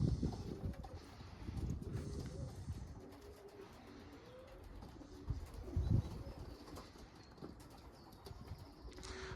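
Young pigeons coo softly and flap their wings in short bursts on their first outing from the loft, a quiet, close-up mix of low murmuring and occasional wingbeats over faint background noise.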